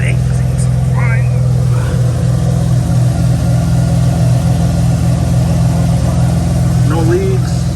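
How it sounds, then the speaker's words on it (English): A bagged BMW E36 idles loud and close, a steady low rumbling engine drone with faint voices talking in the background. "about to go start it and see if I fucked anything up"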